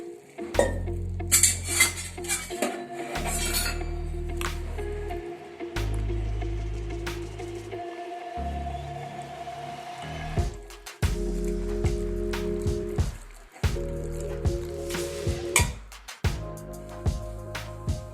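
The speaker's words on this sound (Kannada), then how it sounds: "ಫ್ರೆಂಡ್ಸ್, ಈ ರೀತಿ ದೋಸೆ ಬ್ಯಾಟರ್ ಅದಕ್ಕೆ ನಾವು ಕಲಿಸ್ಕೋಬೇಕು." Instant dosa batter mixed by hand in a bowl with added water, giving repeated wet squishing and stirring sounds with occasional clinks against the bowl, close and fairly loud, with no talking.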